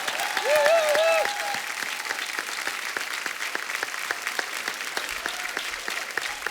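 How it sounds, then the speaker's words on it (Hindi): Steady audience applause on a comedy talk-show set, loud and continuous clapping filling the room, with a brief musical sting at the start and no talking. "जोरदार तालियां"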